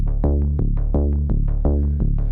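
A deep synth bass preset pulses through chord changes in short rhythmic arpeggiated bursts, each note starting with a sharp attack and decaying quickly, loud and upfront with steady timing and no voices.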